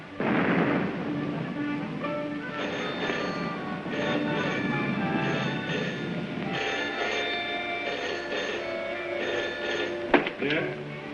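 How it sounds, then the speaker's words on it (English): Distant anti-aircraft guns fire in a 1936 science-fiction film, heavy rumbling booms rolling under a dense, noisy wartime soundtrack, with one sharper thump near the end. "Listen, guns again."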